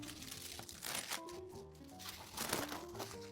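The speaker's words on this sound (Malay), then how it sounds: "Bunyi-bunyi kertas high end." Stiff high-end wrapping paper crinkles and rustles close by as a luxury handbag is unboxed, with louder crumpling bursts around the first and final seconds and softer handling in between.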